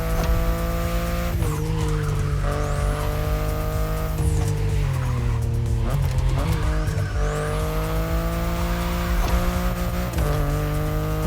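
A BMW i8 driving in The Crew Motorfest, its engine droning steadily and loudly with revving pitch sweeps and bursts of tire squeal and skidding throughout.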